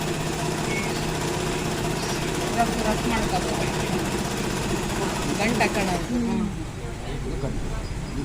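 An overlock sewing machine stitches in a steady, dense mechanical whir, with a person talking over the continuous hum throughout.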